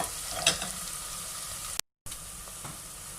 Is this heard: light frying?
yes